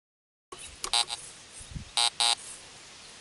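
Fisher F19 metal detector sounding over a dime buried 4 inches deep beneath five rusty nails: a few short, sharp electronic tones in two pairs, with a faint low rustle from the coil sweep between them.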